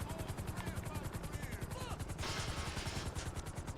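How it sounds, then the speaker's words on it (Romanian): A helicopter in GTA 5 Online gives a steady, rapid rotor chop that thumps in an even rhythm throughout, with a brief burst of harsher noise midway. "poate că este elicopterul pe stradă"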